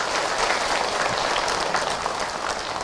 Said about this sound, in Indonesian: Tepuk tangan buat teteh yang bertanya.